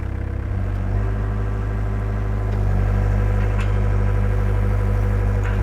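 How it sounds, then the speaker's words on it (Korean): A heavy diesel engine of a 2016 Hyundai HX60MT excavator runs steadily, its low rumble rising slightly as the revs climb, loud and close with a constant mechanical drone. "시동 걸었을 때 엔진 소리는 아주 좋습니다 부드럽게 잘 작동이 되고 있습니다 RPM을 올리고 동작도 해볼게요"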